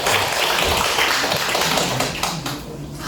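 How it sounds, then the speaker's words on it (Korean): An audience at a Korean author's book concert breaks into loud, close applause that stays full for a couple of seconds before dying away. "박수 한번 부탁드려요"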